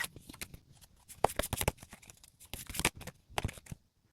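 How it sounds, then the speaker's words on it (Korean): Tarot cards are shuffled by hand in quick, irregular riffles and slides, crisp papery flutters in bursts with short pauses, close and fairly quiet. "지금 카드를 섞다가 뒤집어진 카드가 있어서"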